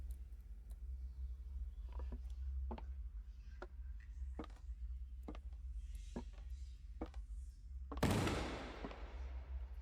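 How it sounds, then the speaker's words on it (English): A single loud gunshot cracks out late in the horror video game Please, Forgive Me, a sharp burst with a trailing echo after a series of faint thuds and clicks over a low hum. "That was a gunshot."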